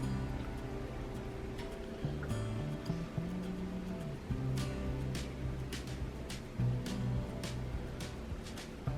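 Egg mixture for a crustless spinach quiche is poured over the filling in a baking dish, a soft, steady liquid wash running for several seconds with faint low hum beneath.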